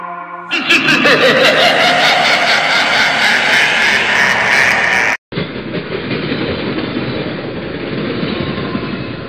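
A cartoon train runs along with a steady, loud rushing rumble and rattling clatter. The sound cuts out for a split second near the middle, then the lower, continuous roll of the train carries on alone.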